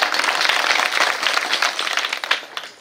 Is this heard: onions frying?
no